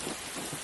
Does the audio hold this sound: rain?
yes